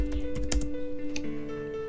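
Computer keyboard typing while writing C code: a quick run of clicky keystrokes in the first half, close and moderately loud, over a steady background hum, with no talk.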